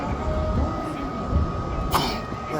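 A single sharp sneeze bursts out once amid the steady rumble and background din of the New Mexico State Fair grounds.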